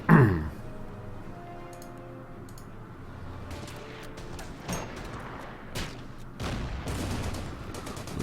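Light mortars firing in the WWII strategy game Order of Battle during the Ardennes offensive: a loud thump at the start, then a scatter of sharp, fairly faint detonations and crackling impacts.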